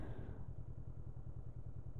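A 2022 Honda CB500F twin-cylinder motorcycle runs while being ridden, its engine giving a steady, rhythmic low-pitched thrumming pulse with a constant rush of wind, and no speech.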